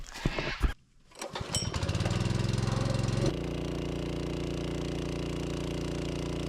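A portable generator engine starts with a few sputters, then settles into a loud, steady running drone close by, with no talk over it, during hot, smoky bushfire conditions.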